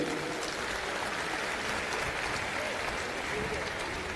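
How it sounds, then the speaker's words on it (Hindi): A crowd at an event for pilgrims bound for Dwarkadhish claps steadily in dense, sustained applause that fills the whole stretch, with no clear voices over it. "आपकी तरफ से तालियां होनी चाहिए इस स्वागत के लिए"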